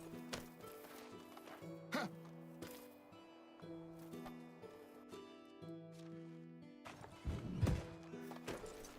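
Horse galloping in the game Medieval Dynasty, with a quick run of rhythmic hoof clops over a looping musical background, fairly quiet, ending in a brief louder scuffle.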